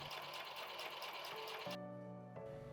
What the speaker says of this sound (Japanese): まず最初に両サイドを縫います。